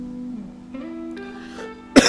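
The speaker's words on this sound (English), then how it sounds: "Man, this cough." A man's single sharp cough bursts out near the end, loud and close after a stretch of quiet low hum.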